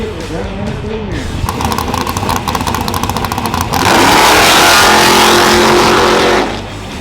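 Drag racing cars launching at a 120-foot street race in Klamath Falls: loud roaring engines revving and accelerating hard up close, rising into a sustained full-throttle blast before falling away, with crowd voices mixed underneath.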